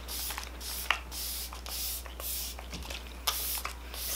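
Several short hissing bursts of a fine mist of makeup setting spray, irregularly spaced, close up with a low steady hum underneath.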